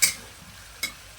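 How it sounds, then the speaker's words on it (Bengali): A spoon stirs a potato and bottle gourd curry in a pan. Two quick, bright scrapes sound about a second apart over a quiet background. "ধীরে ধীরে নাড়তে থাকবো বন্ধুরা।"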